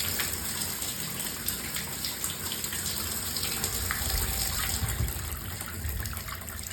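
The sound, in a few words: bath tap running water, purging air from the pipes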